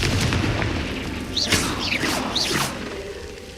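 Confringo fire spell in the video game Hogwarts Legacy, three whooshing fiery bursts about a second apart, each ending in a booming explosion over a steady rumbling game backdrop.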